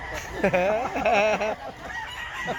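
A rooster or chicken at a poultry expo in Mantalungon, Barili, Cebu, giving a close, loud run of honking, crowing calls over about a second, with faint background noise after.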